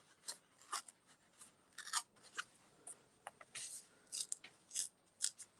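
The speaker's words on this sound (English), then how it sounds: "Susan, you wanted to know how you rip your paper." Paper torn by hand along its edge, heard up close as a quiet series of short, crisp ripping bursts in an irregular rhythm, with no talking.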